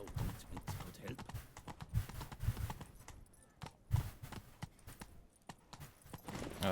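Roach, Geralt's horse in The Witcher 3: Blood and Wine, trots along in a steady, close clip-clop of hooves that continues throughout, with some uneven louder footfalls.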